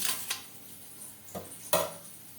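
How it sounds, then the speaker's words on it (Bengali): A spoon knocks against a bowl or cup while stirring turmeric into a little water, giving a few separate close clinks and scrapes in a quiet kitchen. "সামান্য পরিমাণে জলের মধ্যে আমি পরিমাণ মতো হলুদ গুলে নেব"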